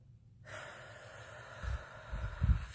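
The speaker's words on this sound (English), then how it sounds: "take a deep breath" A deep breath in and out during a stress-relief tapping exercise, heard close up as a soft airy inhale followed by a louder, gusty exhale near the end, with no talking.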